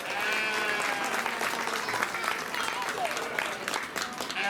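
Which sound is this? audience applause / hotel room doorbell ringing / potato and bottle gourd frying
audience applause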